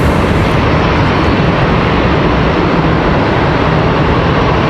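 An American Airlines Boeing 737-800 departs Charlotte Douglas International Airport for Phoenix, a loud and steady takeoff roar of jet engines filling the whole short stretch.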